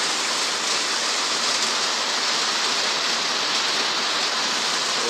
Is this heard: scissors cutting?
no